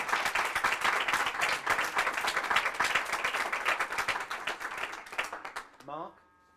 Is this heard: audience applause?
yes